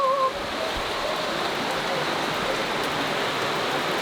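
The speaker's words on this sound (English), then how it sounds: "The girls are excited to see this water just coming out of the rocks here" Water gushing out of rock in a gorge at Watkins Glen State Park, a steady, close broadband rush that continues alone after a brief voice at the start.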